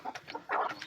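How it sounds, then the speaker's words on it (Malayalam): A hen and chicks cluck in short, close bursts while pecking at chick starter feed, with no talk over them. "കോഴികളൊക്കെ കൂട്ടിലേക്ക് എന്തെങ്കിലും വെച്ചാൽ മറ്റേ കോഴികളൊക്കെ വന്നിട്ട് അത് കുത്തി തിന്നാൻ നോക്കും"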